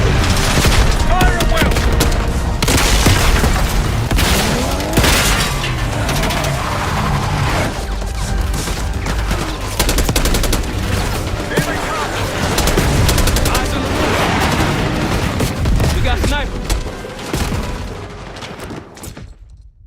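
Heavy battlefield gunfire in Call of Duty: Black Ops 6 during a push on a palace gate: dense automatic bursts and booms overlap loudly and without pause, then thin out and fade near the end.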